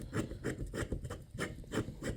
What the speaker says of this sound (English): you have the counterweight one. And that just screws right in the back,